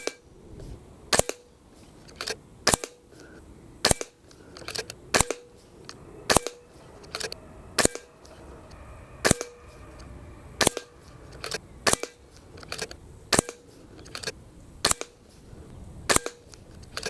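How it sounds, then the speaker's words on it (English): An FX DRS Classic synthetic .177 air rifle firing JSB Exact Diablo 8.44 grain pellets, a long steady series of about sixteen sharp snapping shots at regular intervals, close and loud, with faint mechanical handling between shots and no talking. "With 16 shots, that magazine never seems to come to an end."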